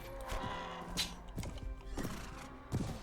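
Horse neighs and hoofbeats in the medieval combat game Mount and Blade: Warband during a battle, with loud rhythmic thuds and a whinny over constant game noise.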